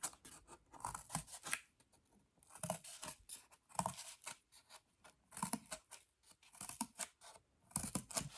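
Scissors snipping short slits into the edge of a homemade mini loom for weaving tiny Persian carpets, a quiet series of repeated close cuts in irregular bursts with brief pauses.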